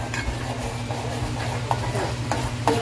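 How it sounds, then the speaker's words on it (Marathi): Tomato puree frying in hot oil in a pan, a steady close sizzle with repeated stirring scrapes and a few utensil knocks, no talking. "प्युरी चांगली फ्राय करून घेऊया, तर तेल सुटेल"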